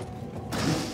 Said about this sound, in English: Some fancy door opening there.